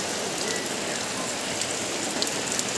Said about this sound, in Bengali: বিরাট বৃষ্টি হচ্ছে, বৃষ্টি মোটে কমছে না